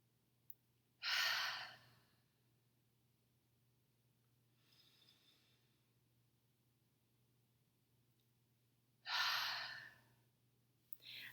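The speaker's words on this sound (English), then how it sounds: "I'm going to exhale like mad" Two forceful, loud breaths are made during a deep breathing exercise, spaced several seconds apart. Each is a sharp, rushing exhale close to the microphone, with a fainter breath between them and near silence otherwise.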